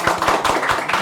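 A few people clap in a quick, rhythmic patter, with close, distinct hand claps repeating for about a second.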